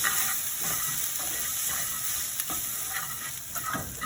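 Yellow curry powder and turmeric sizzle in a little oil in a pan while being stirred for coconut chicken curry, a steady close frying hiss with soft scraping throughout and no voices.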